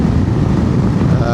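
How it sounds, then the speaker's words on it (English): Steady, loud wind buffeting inside a motorcycle helmet with an aftermarket windshield while riding at traffic speed on a windy day, a continuous low rumbling roar with no break. "I don't know if you can hear the wind there in the helmet, it's fairly windy."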